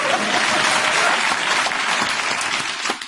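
Studio audience applause on a British comedy panel show, a dense steady wash of clapping filling the whole stretch, loud and close, tapering slightly at the end.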